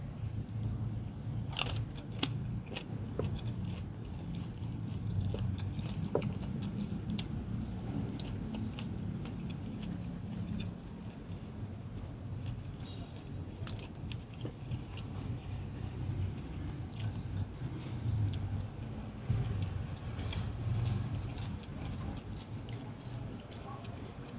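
Someone eats mackerel with chili dip up close, with repeated wet bites and crunchy chewing spread across a long stretch and faint voices in the background.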